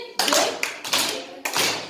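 Children in a classroom clap in unison three times, each burst a sharp, loud group clap of rustling hands, evenly spaced and close by.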